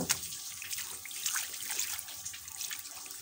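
Tap water runs and splashes steadily while a cutting board is rinsed to wash off dust and fibers, close and moderately quiet, with faint trickling throughout.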